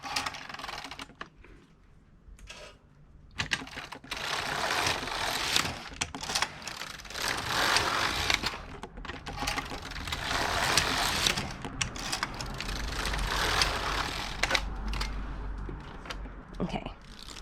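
Passap E6000 knitting machine carriage being pushed across the needle bed for several rows, giving repeated clattering, rattling passes at close range with short gaps between strokes.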